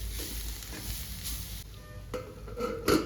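Cabbage stir-fry being mixed with grated coconut and chopped coriander in a hot pan, a steady sizzle with soft scraping stirs throughout and a brief clatter near the end.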